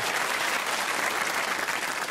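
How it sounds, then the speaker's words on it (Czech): Theatre audience at a comedy stage show claps in a steady, dense burst of applause that fills the whole moment with no voices on top. "zatleskejte mi"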